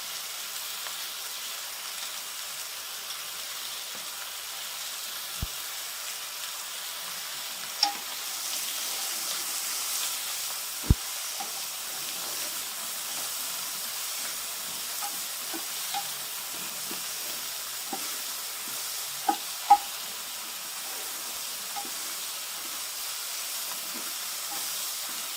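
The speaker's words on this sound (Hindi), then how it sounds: "ये गोश्त हमारा बिल्कुल फ्राई हो चुका है।" Chicken meat frying with salt and turmeric gives a steady, soft sizzle and hiss for the whole stretch, broken by a few sharp clicks and taps from a utensil against the pan.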